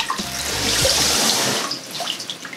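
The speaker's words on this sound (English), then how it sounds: "we'll squeeze these out" Wet bleach tie-dyed shirts are squeezed out, sending a short rush of splashing, trickling water close by, followed by a few scattered drips.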